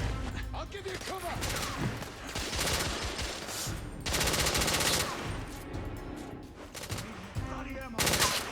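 Sustained covering gunfire in the video game The Order: 1886 roars in dense, continuous automatic bursts, loud and close, with a brief dip before another heavy barrage and faint voices underneath.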